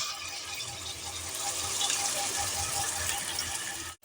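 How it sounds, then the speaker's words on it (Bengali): Spice paste is tipped into a pan of golden fried onions, setting off a loud, steady sizzle and hiss that runs on alone before cutting off abruptly at the end. "এবার আমি পেস্টটাকে সম্পূর্ণ ঢেলে দিলাম"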